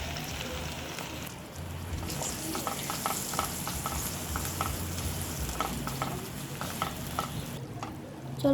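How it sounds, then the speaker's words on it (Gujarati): Curry leaves and a tomato-onion puree hit hot oil, bursting into a loud, close sizzle after a brief lull, then settling into steady spattering crackle with light stirring clicks. "હવે આપણા તેલ ગરમ થઈ ગયું છે, આપણે એમાં નાખશું લીમડાના પાન અને ટામેટા ડુંગળીની પ્યુરી"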